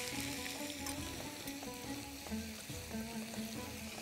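Marinated chicken pieces sizzling steadily as they grill or fry, a soft continuous crackle with faint clinks from stirring or utensils, no talk.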